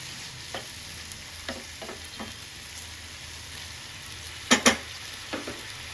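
Chutney made with peanuts being stirred in a pan on a stove, soft scraping strokes over a faint sizzle, with a couple of sharper clinks of the spoon against the pan near the end.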